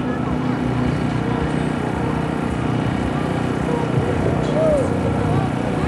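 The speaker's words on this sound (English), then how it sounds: "Jill Long's Pitts biplane has 288 horsepower, and she's using every bit of it" The 288-horsepower Pitts biplane engine drones steadily during an aerobatic airshow, heard from a distance beneath continuous spoken commentary.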